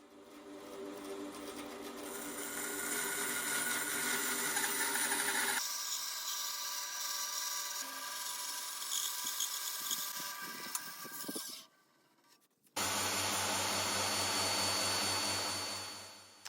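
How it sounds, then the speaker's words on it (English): A bandsaw cuts recesses into wood with a steady mechanical whine and hum. The tone changes partway through, a short drop comes near the end, and then the loud running sound returns, with no talk. "I then move on to cut out the recesses, which I'll do on the bandsaw."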